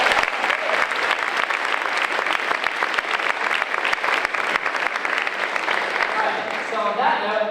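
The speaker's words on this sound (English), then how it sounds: "let's all give them a round of applause" An audience applauds a school jazz band with sustained, dense clapping that stays loud throughout, then thins near the end as a voice begins speaking over it.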